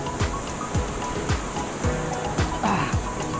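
Constant roar of rushing water at the upper part of Canding Falls in Tarlac, loud and steady with faint periodic thumps underneath.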